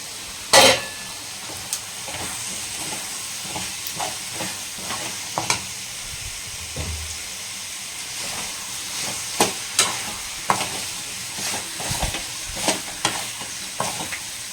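Restaurant-style potato masala fries in a pan while a spoon stirs it, scraping and knocking against the metal in irregular strokes over a low continuous sizzle, close and fairly quiet, with no talking.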